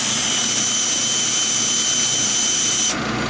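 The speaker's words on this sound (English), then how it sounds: "my driver, I put a fitting for 3/8, and I just have to loosen up the bolts" A power driver fitted with a 3/8 socket runs loud and steady, whining continuously as it loosens compressor bolts, then drops slightly in pitch near the end.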